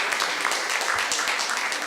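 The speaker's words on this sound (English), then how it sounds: "A big round of applause." An audience at an evening book reading by author Sandhya Menon at the Embassy of India claps in dense, steady applause, a close wash of many hands that continues evenly throughout.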